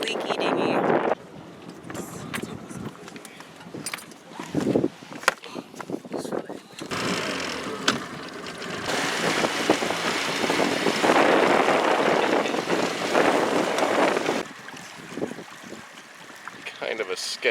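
A small leaky dinghy moves across the water with a broad rushing wash and wind buffeting the microphone, the noise swelling and easing over the run.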